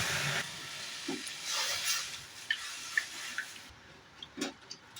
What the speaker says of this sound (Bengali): এবার এই গরম কড়াইয়ের মধ্যেই আমি জল দিয়ে দিচ্ছি কিছুটা পরিমাণ